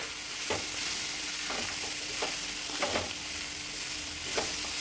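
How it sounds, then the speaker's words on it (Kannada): Cooked kabuli chickpeas are stirred into rice in a pan for masala rice, giving a soft, steady sizzle broken by scraping spoon strokes at irregular intervals. "ಬೇಯಿಸಿಟ್ಕೊಂಡಿರೋ ಕಾಬೂಲ್ ಕಡಲೆನ ಹಾಕ್ತಾಯಿದ್ದೀನಿ"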